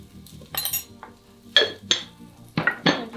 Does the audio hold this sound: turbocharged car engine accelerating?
no